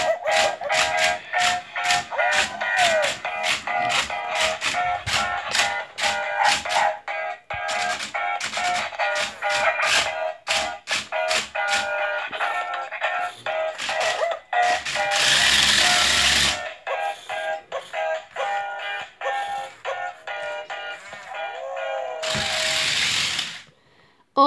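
A Wowee Chip robot dog toy driving away, rapid ratcheting mechanical clicks and whirring gears repeating steadily, then bursts of electronic hiss.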